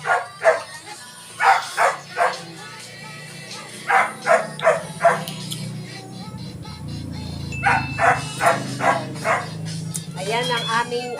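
A dog barks repeatedly in sharp bursts, some in quick clusters, close and loud, with short pauses between volleys and a steady background hum underneath.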